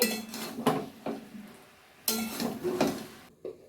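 A spoon scrapes and clinks against a cooking pot while vegetables and peas are mixed for a Bengali fish curry, several loud close strokes in two bursts, with no talking.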